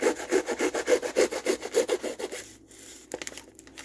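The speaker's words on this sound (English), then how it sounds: "I was like, yo, did I just cut through the whole thing? It's like a hacksaw, didn't it?" Rhythmic rasping strokes of a blade sawing through material, like a hacksaw, about ten quick back-and-forth passes that stop abruptly and are followed by a few small clicks and handling noises.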